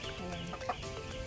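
A chicken clucks softly in short bursts against a faint outdoor background.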